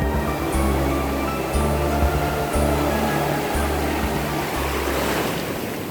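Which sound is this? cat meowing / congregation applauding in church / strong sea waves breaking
strong sea waves breaking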